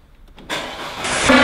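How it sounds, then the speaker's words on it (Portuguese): An Audi car with a dual exhaust fitted with a vuvuzela starts up: a brief cranking sputter, then the engine catches into a loud, steady roar that swells near the end. "Vamos dar partida aqui no carro, hein?"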